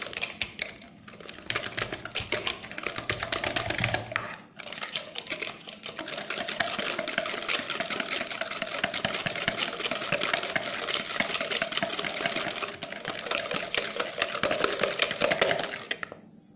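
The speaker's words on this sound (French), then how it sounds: "Et on mélange." Orange tart batter of cornstarch and water being mixed in a bowl, a steady, fast scraping and clicking stir that runs continuously with a brief pause partway through.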